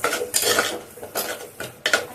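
Green chili, pepper, ginger and garlic sautéed in a pan, heard as repeated close scraping stirs of a utensil against the pan with light sizzling under them and no talking.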